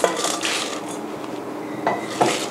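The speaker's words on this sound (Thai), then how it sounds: "ตอนนี้ก็โขลกให้ละเอียดนะคะ" A pestle pounding shallots, garlic, dried chili, galangal, lemongrass and kaffir lime leaves in a mortar, a few dull knocks and grinding scrapes at moderate level with no talk.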